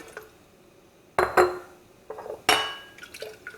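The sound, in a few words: washing a glass jar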